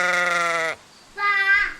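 A person imitates a sheep bleating, giving two nasal "baa" calls with a short pause between them, loud and close.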